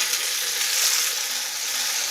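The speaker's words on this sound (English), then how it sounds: "But these are just washed clams. I'll put them right in." Washed littleneck clams hit a hot pan, setting off a bright, steady sizzle that holds close and loud for the whole moment, with no voices.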